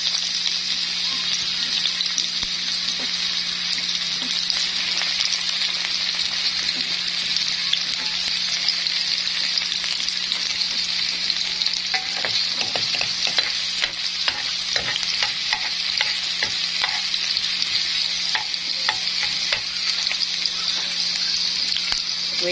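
Chopped garlic frying in a hot pan (kawali) with a steady, bright sizzle that runs unbroken and fairly close, with faint stirring clatter and no voices.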